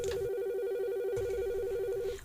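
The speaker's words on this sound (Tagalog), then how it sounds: "nibagting ang telepono" A telephone rings with a steady warbling electronic trill that runs almost unbroken, loud and close, with no voices.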